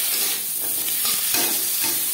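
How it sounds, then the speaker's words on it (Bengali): Papaya pieces are frying in oil in a kadai for a vegetarian dal shukto, producing a loud, continuous sizzling crackle close up, with occasional stirring scrapes and no voices. "সেই কড়াইতে দিয়ে দেবো পেঁপে।"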